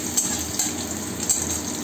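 Garlic fries in oil in a pan, a continuous soft crackling sizzle with faint clicks of stirring, close and alone with no voices.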